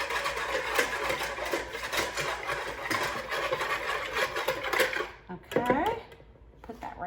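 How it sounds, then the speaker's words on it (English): A whisk rattles steadily against a bowl, mixing ancho chili powder into a mixture for an island pork tenderloin. The clicking scrape is close and continuous, and it stops near the end. "And I'm gonna give it just a little whisk."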